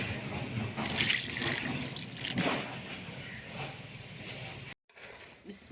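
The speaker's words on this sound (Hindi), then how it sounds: "अब इसमें हम पानी डाल के इसका एक पेस्ट बना लेंगे।" Water is poured into a bowl of beaten egg mixture to make a paste, a close, soft liquid trickle and splash with light spoon stirring, running steadily before a brief break near the end.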